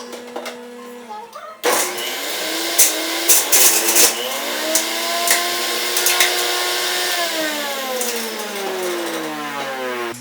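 A kitchen juicer switched to its high setting whirs loudly and steadily as apples and celery are fed in, with an abrupt start, irregular chunky bursts from the produce and a pitch that sags and recovers under load.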